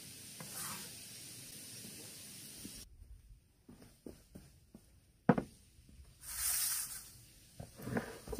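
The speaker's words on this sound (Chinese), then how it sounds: "我直接搁到锅里了，一炒就行了" Vegetables stir-fried in a wok over an outdoor mountainside cooking fire sizzle and hiss in uneven bursts, with scraping stirs, short clanks and a louder sizzling surge near the end.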